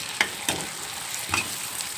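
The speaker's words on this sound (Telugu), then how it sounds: "ఇప్పుడు టమాటాలు వేసి బాగా కలుపుదాం." Tomatoes being stirred into frying onions in a pan, a continuous sizzle broken by a few sharp spoon scrapes and clinks at irregular intervals.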